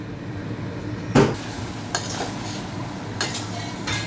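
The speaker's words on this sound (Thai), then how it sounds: "ผัดแล้วก็เอาฝาหม้อปิดไว้เลย ให้มันสุก" Amid a soft sizzling of stir-frying eggplant and tofu, a metal pot lid clanks once as it is put on, followed by a few lighter knocks of cookware nearby.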